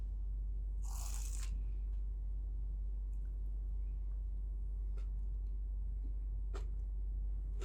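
One crisp, close crunch from a bite into a crispy Dubai chewy cookie, followed by faint small clicks over a constant low hum.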